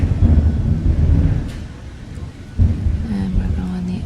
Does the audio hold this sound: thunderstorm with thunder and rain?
yes